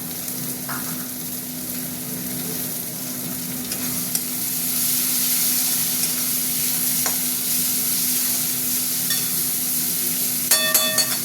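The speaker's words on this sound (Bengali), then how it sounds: "ভাজা ভাজা হোক চিংড়ি মাছগুলো" Shrimp sizzling and frying steadily in a hot pan for a spicy jackfruit shrimp curry, a constant close hiss with occasional light utensil clinks near the end.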